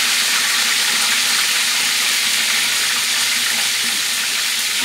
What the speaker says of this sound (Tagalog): Deep fry. Kailangan marami ang mantika.